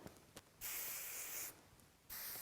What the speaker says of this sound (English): So I'm taking the Rock Your Crown hairspray, spraying at the root area,